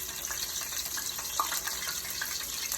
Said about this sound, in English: Right now, that chicken is sizzling.